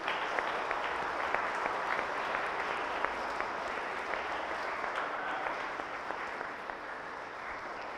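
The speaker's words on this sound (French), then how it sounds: "nous applaudissons bien bien fort" A church congregation at a children's confirmation at St Patrick's parish applauds steadily, a dense, even wash of clapping from many hands heard from a moderate distance throughout.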